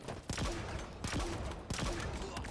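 A Pursuit Hydra launcher fires in Halo Infinite, sending out three bursts of rapid popping shots with whooshing projectiles. The shots are loud and close and fill the short clip.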